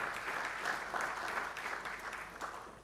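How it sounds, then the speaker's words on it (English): Steady audience applause fills a conference room at a sports industry convention, moderately distant and even, with a faint voice underneath. "can we give her a big round of applause for her presence?"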